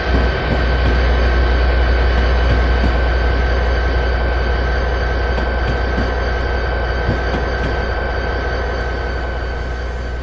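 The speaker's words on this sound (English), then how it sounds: "And we have another passenger train arriving from the south." Passenger train on the South Florida Tri-Rail line in the Train Simulator 2020 game, arriving from the south at Lake Worth Station: a loud, steady low rumble with a continuous whine, sustained throughout without talk.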